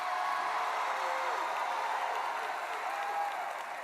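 Church congregation cheering and applauding in a large room, a steady dense wash of clapping and crowd noise lasting throughout with a few raised voices calling out.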